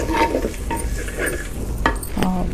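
Dried bitter fish and tamarind leaf curry frying in a pan and being stirred: close, loud clatters of a spoon against the pan in an irregular rhythm over a soft sizzle, with no talking.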